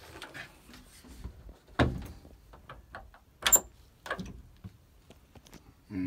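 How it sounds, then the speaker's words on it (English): A motorhome door opens with a series of close mechanical clicks and latch knocks, a sharper thump near the middle, then a bright clack and a few softer rattles, with no talking. "you can open the door."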